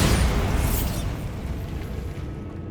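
A Bombarda spell explosion in Hogwarts Legacy, a loud booming blast at onset that rolls into a sustained rumbling decay over a couple of seconds.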